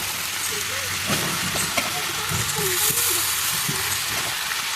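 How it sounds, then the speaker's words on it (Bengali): Fresh gandhabhadali leaves dropped into hot oil with ginger paste, producing a loud, steady frying sizzle with stirring scrapes throughout. "এবার এর মধ্যে এই যে গন্ধ বাদালি পাতাটা দিয়ে দিলাম"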